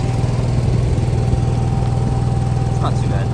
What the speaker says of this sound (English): So we got to run the generator the whole time.